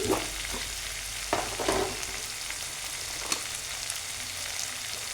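Coriander and spices frying in a pan for tomato chitranna, a quiet steady sizzle broken by a few sharp stirring clicks and scrapes, no speech.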